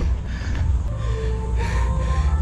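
A man breathes heavily after a fast run at Quezon City Memorial Circle, with close, loud gasping breaths and snorts, no speech over them.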